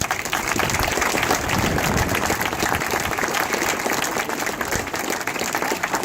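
A large gathering at a parish event gives a sustained round of applause, dense continuous clapping that holds at a steady, loud level for several seconds with no talk.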